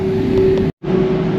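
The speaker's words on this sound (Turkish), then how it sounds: "Süpürge kamyonuydu. Yol kenarını süpürüyordu." A street sweeper truck brushing the roadside in a German village passes with a steady mechanical drone, low engine hum and whooshing brush noise, close by, briefly dropping out before resuming.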